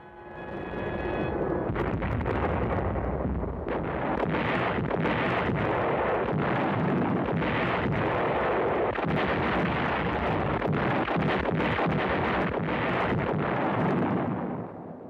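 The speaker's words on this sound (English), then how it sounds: "It does seem like he liked these shelling clips, right?" Artillery shelling in WW2 archive footage from the Italian Campaign, a dense roar of explosions and blasts with repeated sharp impacts, loud and continuous throughout, with rumbling wind-like noise underneath.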